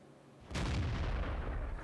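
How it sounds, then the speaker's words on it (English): A single heavy artillery cannon shot in World of Tanks lands after a quiet moment as a loud, close boom and then rolls on in a long rumbling tail. "So that was a fully aimed shot, and it missed anyway."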